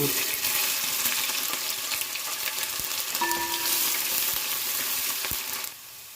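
Steady, close sizzling and crackling of ginger frying in hot oil after mustard seeds, continuous with no voices, dropping quieter in the last half second.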